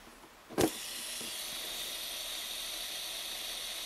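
A sharp click, followed by an Abu 6500 baitcasting reel spool spinning with the magnetic brake out, a faint, steady high whir that keeps going without a break.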